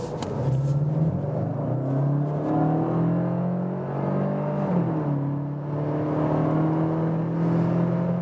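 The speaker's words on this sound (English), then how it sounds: "And now let's accelerate it out together with this GTE boost." A 2020 facelift VW Passat GTE plug-in hybrid accelerates hard under GTE boost, its engine note climbing steadily through rising gear-like sweeps with a brief dip near the middle, loud and continuous from inside the cabin.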